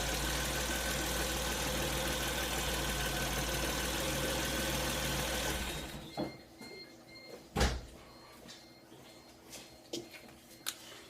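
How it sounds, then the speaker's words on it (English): A Geo Metro engine with a failed ignition coil roars loudly and continuously at full throttle, then abruptly drops away into irregular sputtering bursts and pops as the ignition cuts in and out. "Right there's full throttle, and it's just the ignition cutting in and out."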